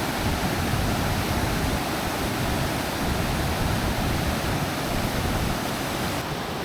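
A waterfall in Michigan's Eastern Upper Peninsula roars as a steady, dense rush of falling water, loud and close, continuous throughout with no voices.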